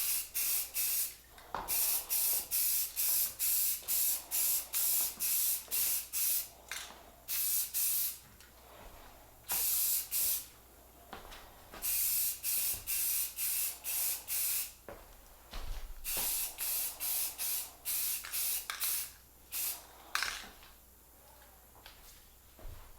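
Spray can laying a first coat of paint on a 1950s Sears J. C. Higgins stove, close bursts of hissing spray in repeated steady passes with short pauses between them, no talking.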